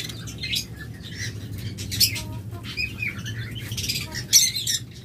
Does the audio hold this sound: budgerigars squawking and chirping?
yes